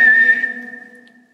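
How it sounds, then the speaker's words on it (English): A single sustained whistle at a fort, sounded during a ghost investigation, starting loud and close and then fading away over about a second into quiet. "Let's try that whistle again."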